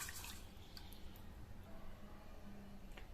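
Rice being washed by hand in a bowl of water in a home kitchen, with soft, quiet sloshing and dripping that continues steadily throughout without any talk.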